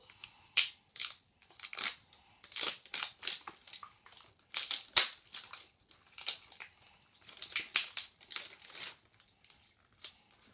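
Crinkly plastic wrapping on a L.O.L. Surprise Underwraps toy is torn and crumpled in a series of sharp, close bursts of crackling, coming in irregular handfuls with brief quiet gaps.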